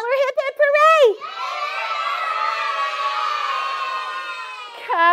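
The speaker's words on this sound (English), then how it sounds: "Holler hip hip hooray!" Young children in a phonics lesson shout a cheer together, a loud burst of voices, then a sustained crowd cheer that holds steady for several seconds before a fresh shout at the end.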